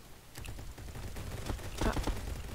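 Gunfire in a shooter video game comes as scattered muffled bangs, with a heavier burst near the end over a steady background rumble, and a voice talking at times.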